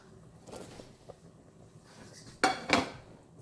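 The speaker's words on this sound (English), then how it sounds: "and then we stir." A spoon stirs Ghanaian okra soup in a cooking pot, making soft, quiet scraping, then two sharper metallic clinks against the pot near the end.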